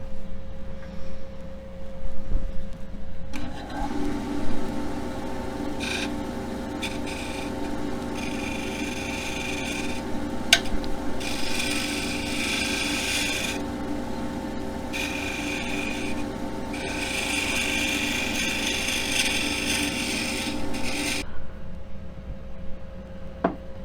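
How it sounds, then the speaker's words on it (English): A skew chisel smooths a wooden file handle spinning on a lathe, giving a steady close scraping hiss over the constant motor hum, rising and falling as the cut engages for long stretches. "I'm going to use a skew chisel to try to smooth some of this out."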